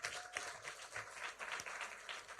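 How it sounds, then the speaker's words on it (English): An audience gives a dense, sustained round of applause, steady clapping from many hands at close range with no pauses. "Please give them a round of applause."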